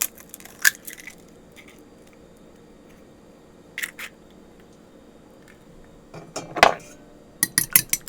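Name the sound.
cracking an egg for onion ring batter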